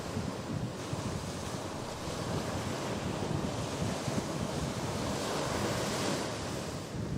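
Sea waves and gusty wind roar continuously at an offshore jet ski race course near Port Balis, Barcelona, a dense, steady wash of surf and wind noise with no voices.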